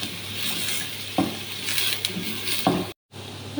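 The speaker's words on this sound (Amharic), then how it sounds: "እዚህ ጋር ቅቤው ሲቀልጥልኝ ሽንኩርት ጨምራለሁ" Chopped onion hits melted butter in a pan and sizzles steadily, with a few stirring scrapes and clinks of a utensil against the pan, close and continuous with a brief dropout near the end.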